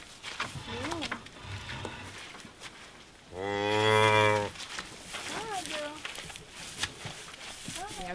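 A cow gives one long, loud moo in the middle, with a person talking before and after it.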